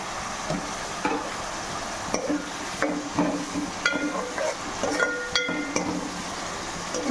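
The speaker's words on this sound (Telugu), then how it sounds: "వడలు ఫ్రై అవ్వాలి" Masala vadas deep frying in hot oil, a steady sizzle broken by frequent stirring clinks and scrapes of a utensil against the pan, with no talking.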